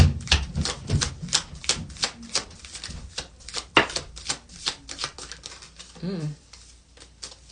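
Tarot cards being shuffled in a rapid string of crisp riffling taps, close and fairly loud, with a brief voice murmur partway through.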